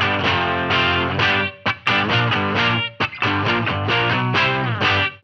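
An electric guitar plays a repeated chord riff through an old amplifier with no distortion channel, loud and sustained, with brief breaks between phrases.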